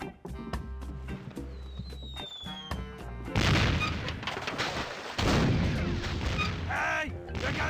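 Cannon fire from a pirate ship in the game The Curse of Monkey Island, heavy booming blasts with crackling debris that cut in loudly over game music and go on in dense bursts.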